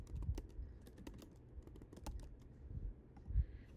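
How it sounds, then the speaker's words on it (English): Someone types manually on a computer keyboard to enter items into a point-of-sale application, producing a quiet, close stream of uneven keystroke clicks with a few louder thumps and no talk. "here the items can be scanned or typed manually"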